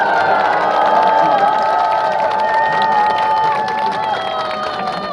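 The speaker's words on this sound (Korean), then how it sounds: "청년들에게 응원의 박수를 보내주시면 좋겠습니다." A crowd at a Wednesday street rally on Japanese military sexual slavery claps and cheers in support of student activists, a dense, steady wash of applause held at a loud level throughout.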